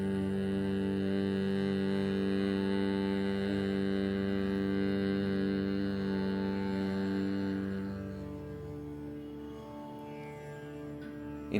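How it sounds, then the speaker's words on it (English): A long, steady humming exhale during yoga bhramari (humming bee) breathing, sustained and fairly close for about eight seconds before fading into softer breath and room noise. "like a humming bee sound"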